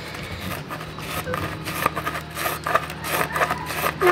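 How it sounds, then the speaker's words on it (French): Rapid rasping strokes of a file working the inside of a Yeti 4.5 mountain bike part, steady and close with a continuous scraping texture and slight rhythmic pulsing throughout. "Et je vais limer l'intérieur."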